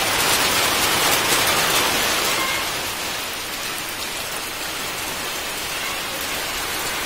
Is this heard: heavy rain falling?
yes